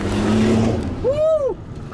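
A Ferrari California drives past on a road near Munich, its engine noise swelling and then falling away in a quick, fairly close pass-by.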